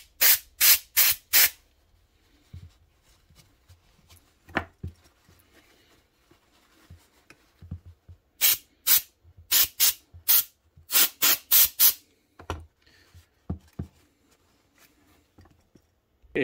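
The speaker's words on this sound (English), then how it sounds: "just kind of try and blast it into the cracks with compressed air" Compressed air blasting grease into the crevices of an Enticer carburetor, heard as loud short hissing bursts, several rapid puffs in clusters separated by quieter handling noises.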